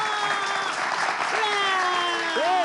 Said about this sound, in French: On va applaudir suffisamment.